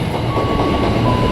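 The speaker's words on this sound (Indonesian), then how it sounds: "14 kereta ekonomi Kertajaya, kereta terpanjang" Kertajaya economy passenger train running close past a station platform, a loud, steady rumble of rolling wagons with faint wheel clatter and no voices.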